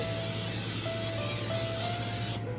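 A steady hiss of aerosol cooking spray onto a 13 by 9 inch baking pan runs for a couple of seconds, close and continuous, then cuts off abruptly.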